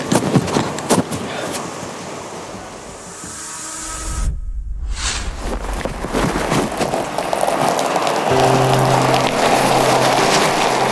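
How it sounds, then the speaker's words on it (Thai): Rain falls in a steady, broad hiss that briefly drops away mid-way before returning stronger, with a low hum underneath. "นานๆเจอฝนทีก็ดีเหมือนกันนี่"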